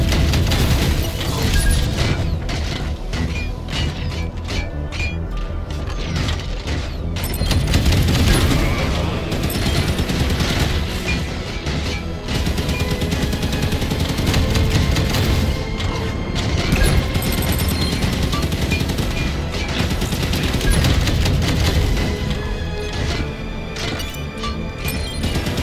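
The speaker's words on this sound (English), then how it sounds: "Three rockets per blast" Rocket launcher blasts firing three rockets per shot and rapid gunfire in the video game Halo 5, a dense, continuous barrage of booms, crashes and shots with game music and effects layered throughout.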